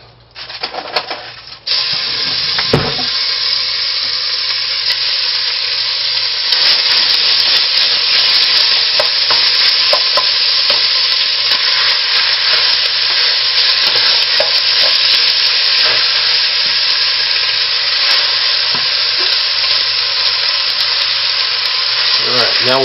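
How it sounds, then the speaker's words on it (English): Lamb stew meat browning in a hot, oiled, smoking pan, a loud continuous sizzle with scattered crackles and occasional stirring scrapes, close up, with a voice speaking briefly. "Alright, now we'll brown up the meat."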